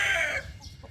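A chicken gives a short burst of clucking, loud and close, then trails off into quieter rustling.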